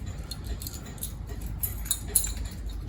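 A bunch of keys for a van jangles in a few quick metallic clinks and chinks, faint and close against a quiet indoor background.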